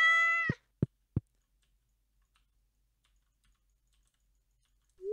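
Cat meowing when petted in the Stardew Valley video game, one clear game meow followed by a few short clicks, then near silence and a brief rising tone at the end.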